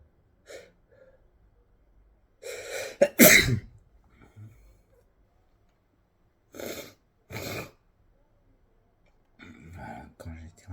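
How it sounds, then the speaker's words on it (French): A sneeze bursts out sharply around the middle, with a gasp and breathy sounds before it and a couple of snorts or sniffs afterward, followed by a person starting to talk. "quand j'éternue, c'est que j'ai trop bu"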